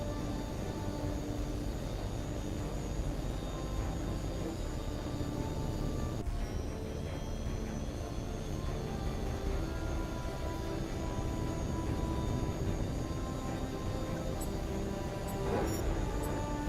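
A jet aircraft takes off in the video game H.A.W.X 2, with a steady, loud engine roar that holds throughout, a brief shift partway through, and a faint whine near the end.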